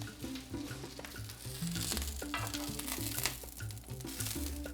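Romaine lettuce for Caesar salad sizzles steadily on a hot grill, a continuous close crackle and hiss with soft pops throughout and no talking.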